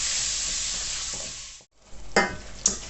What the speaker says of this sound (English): So with the mince in the go now for sort of 3 or 4 minutes, it should be all nice and brown.